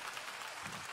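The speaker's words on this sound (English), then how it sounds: "A good clap offering." A church congregation claps together in steady, dense applause that fills the whole moment at an even, moderate level.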